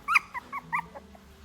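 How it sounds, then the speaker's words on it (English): Small dogs whimper and whine in a few short, high-pitched bursts, close by and fairly soft, with a faint low hum beneath. "the dogs were still complaining to each other, whimpering incessantly"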